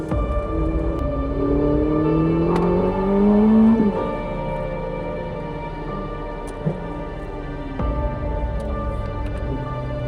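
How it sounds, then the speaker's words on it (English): The engine of a Ferrari 849 Testarossa, Ferrari's performance flagship, rises in pitch as the car accelerates on the road, then settles into a steadier drone heard close from inside the car. "that isn't going to stop me from driving Ferrari's new performance flagship. This is the Ferrari 849 Testarossa."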